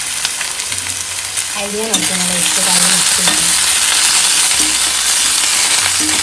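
Wet cashews and potatoes fry in hot oil while being stirred in a pan, giving a steady, loud sizzle with scraping stir strokes throughout and no talking.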